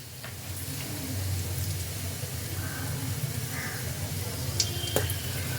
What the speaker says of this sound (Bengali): ফোড়নগুলোকে তেলের মধ্যে কয়েক সেকেন্ড একটু নাড়াচাড়া করে নিচ্ছি